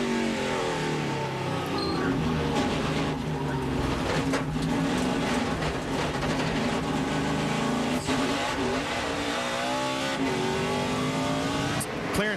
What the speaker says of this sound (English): So gaggle of cars right here going down into turn 3 now.